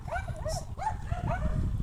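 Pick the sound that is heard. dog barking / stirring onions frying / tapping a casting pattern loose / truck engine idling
dog barking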